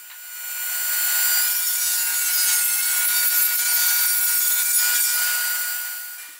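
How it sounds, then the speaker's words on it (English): A big chunk of walnut is cut into boards about 3/4 inch thick, giving a loud, steady, close rasping saw cut that rises in and fades out over several seconds. "I start by cutting this big chunk of walnut into three equal pieces, just over 3/4 inch thick."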